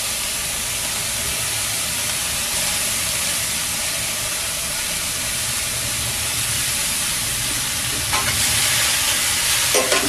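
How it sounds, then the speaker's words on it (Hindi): Grated and ground carrot roasting in a pan for carrot halwa, a steady broad sizzle with stirring scrapes running alone for about ten seconds, a little louder and busier near the end. "अब इसमें कद्दूकस की हुई और ग्राइंड की हुई इस गाजर को डाल देंगे और इसे भून लेंगे"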